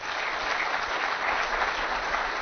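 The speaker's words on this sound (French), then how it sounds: "Après ces discours très applaudis par l'auditoire" An audience applauds speeches at a ceremony in the Democratic Republic of the Congo, with dense, even clapping that holds steady for the whole stretch and no voices.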